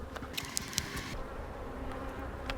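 Honey bees buzz around an open hive while a queen is placed into a queenless split, a faint continuous drone with single bees zipping past close to the ear.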